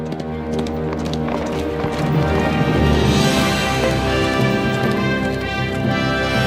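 Horses in the video game Kingdom Come: Deliverance 2: a loud, steady clip-clop of hooves runs throughout, close and continuous, over a sustained tonal game soundscape.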